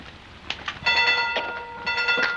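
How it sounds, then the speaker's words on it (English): A steam train pulls into a 1940s railway station, with rising clatter and several sustained whistle-like tones as it arrives. "There's our train."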